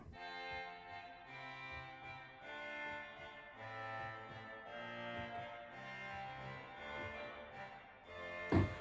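A quiet, buzzy Regal reed organ stop on a baroque organ holds sustained chords with a nasal, rasping timbre, ending in a brief louder knock.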